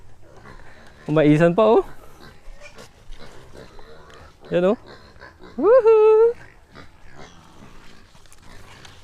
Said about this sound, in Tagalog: andito yung mga baboy niya, nakatali lang, oh